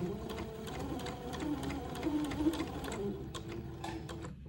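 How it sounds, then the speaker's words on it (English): A sewing machine runs steadily while stitching a seam in a lace panel for a dress, its fast needle clatter continuous and close with no talking. "I'm going to carefully sew a seam in the lace panel."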